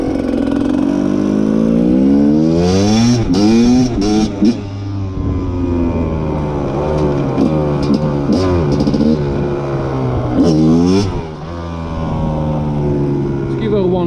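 Rieju MR300 300cc enduro dirt bike engine revving up and down repeatedly, loud and close, with a rough, buzzing two-stroke-style tone that rises and falls in several sharp bursts.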